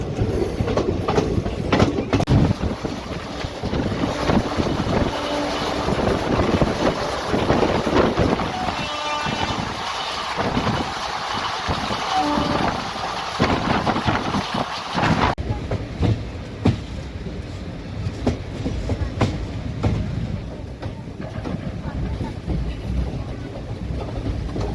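The Koyna Express runs on rails between Bhilwadi and Kirloskarwadi on the way toward Karad, with a loud, continuous rumble and rhythmic clickety-clack of carriage wheels, plus wind buffeting the microphone from inside the train.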